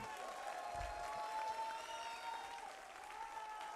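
A seated audience claps together at a talk, steady dense applause held for a few seconds at moderate volume with some crowd murmur underneath.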